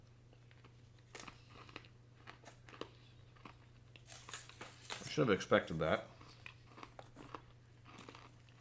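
Someone bites and chews a hard butter crunch toffee, a loud cluster of close crunches in the middle of a quiet room with a steady low hum, while a person speaks briefly.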